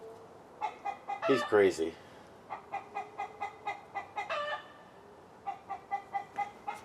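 A rooster clucks repeatedly in short rhythmic bursts, close and fairly loud, with a brief spoken remark over the calls partway through.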